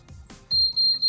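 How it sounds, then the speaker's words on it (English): A fire detection system goes into alarm condition: a loud, piercing electronic alarm tone sounds in repeated bursts after a few brief low thumps, with no talk. "we go straight into alarm condition as soon as it receives its alarm"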